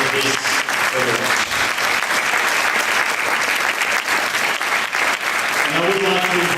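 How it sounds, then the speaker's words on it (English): Warm, sustained applause from a conference audience honoring the artist who made an award, loud and steady throughout, with a voice briefly audible at the start and end. "A warm applause for the artist that created this award."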